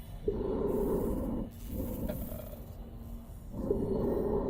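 A looped breathing sound effect from the Syrinscape ambience app during a tabletop roleplaying session, with slow, heavy, rasping breaths repeating in long swells and short pauses, loud and close with no talk over it.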